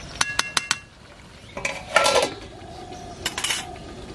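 Metal clinks and scrapes of a lid being set onto a cooking pot of chicken and tomato, several sharp taps at first, then a louder rattling clatter, close by in a quiet kitchen.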